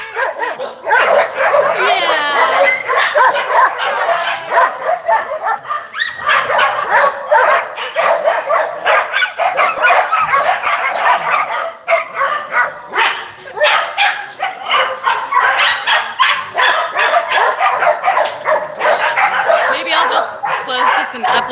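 Several dogs at an adoption shelter bark, yip and whimper nearly nonstop, close and loud, with a person talking to them over the noise.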